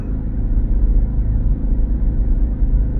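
Inside the cabin of a Dodge Charger electric car, a steady low droning rumble fills the space, continuous and fairly loud, with no voices.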